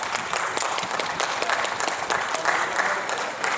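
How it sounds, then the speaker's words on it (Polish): An audience applauds the winner of an international heligonka (button accordion) players' competition in Węgierska Górka, 2013: dense, steady clapping from many hands, sustained at an even level throughout. "Wielkie brawa, słabe te brawa dla Kamila"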